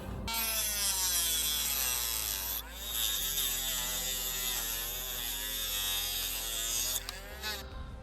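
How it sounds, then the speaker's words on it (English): A rotary motor tool grinds away parts on a 1/16 scale model WW2 tank destroyer, a loud continuous high whine with steady hum, briefly dipping in pitch as it bites into the workpiece, then resuming. "To the motor tool."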